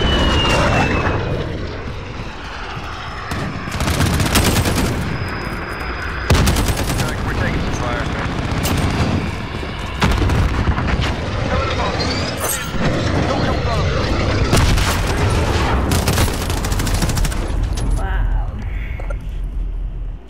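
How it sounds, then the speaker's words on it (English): A cruise missile strike in Call of Duty Modern Warfare on the Hovec Sawmill map, with loud roaring aircraft, explosions and bursts of gunfire, dense and continuous, with game radio voices mixed in. "Allied cruise missile away."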